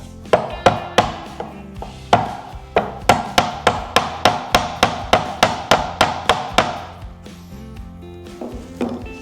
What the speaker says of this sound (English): which is a Buck Brothers chisel of some sort. And I just have a piece of waste wood holding it as I clean up the edges.